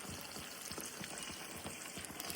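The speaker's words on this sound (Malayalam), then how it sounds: "നല്ല തിളച്ച വെള്ളമാണ്." Boiling water poured into a frying pan of Kerala-style chilli beef, a soft continuous sizzling and bubbling hiss, fairly quiet and close, with no talk.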